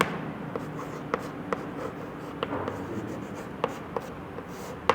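Pen or chalk writing during a Class 3 maths lesson, heard as faint scratchy strokes and light taps in irregular short bursts over quiet room noise, without talk.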